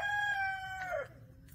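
A chicken gives a single crowing call, fairly faint in an indoor coop, with low background rumble.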